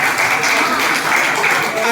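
Loud applause welcoming guests at a crowded public religious gathering, a dense continuous roar of many hands clapping with no gaps, voices faintly mixed in.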